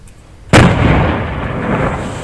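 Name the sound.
controlled detonation of a Pakistani mortar shell by the army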